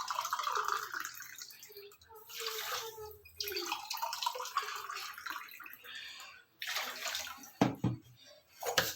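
Water pours in a steady rush from a glass into a pan of sugar for gulab jamun syrup made with cow's milk khoa, with short pauses between pours and a few clinks near the end.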